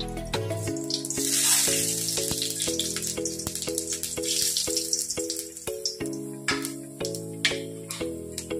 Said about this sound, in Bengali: ওই তেলেই একটা শুকনো লঙ্কা ফোড়ন দিচ্ছি, আর দিচ্ছি এই 5 ফোড়নটা